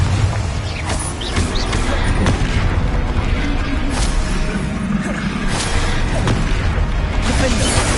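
Confringo fire spell bursts in Hogwarts Legacy, repeated fiery booms and crackles through a loud, dense combat mix with spell clashes, with a voice calling out over it.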